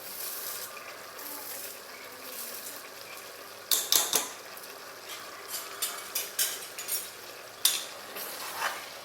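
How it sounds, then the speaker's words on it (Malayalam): Chicken curry with fried onion being stirred in a pan, with scraping and clinking of a spoon against the pot in irregular bursts over a steady low sizzle, close and fairly quiet. "ഇനി ഇതെല്ലാം കൂടി ഒന്ന് നന്നായിട്ട് മിക്സ് ചെയ്തെടുക്കാം."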